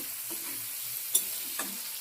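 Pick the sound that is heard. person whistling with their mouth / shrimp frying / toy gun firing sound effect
shrimp frying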